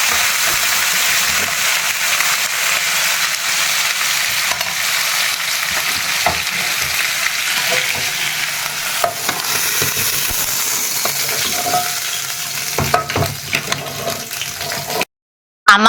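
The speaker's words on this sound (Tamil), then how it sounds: "பொங்கலுக்காக தாளிப்பு போட்டு வச்சுக்கிறாங்க" Curry leaves and coriander tempering for Pongal crackle and sizzle loudly and steadily in hot oil with stirring, broken by a brief silence near the end and no talk.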